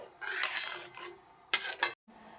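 A spoon scrapes and clinks around a pot while jowar flour upma is mixed, a few short close stirring strokes and two sharp metallic taps, with no talking.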